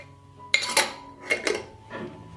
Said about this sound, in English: I will close with clean and new lids that I have sterilized in boiling water for 10 minutes.